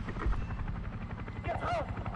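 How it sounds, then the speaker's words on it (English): Helicopter rotor thump in the War Thunder combat game, a steady low churning drone under overlapping game voice callouts and a player talking, with a brief rising whine near the end. "want to lock that helicopter?"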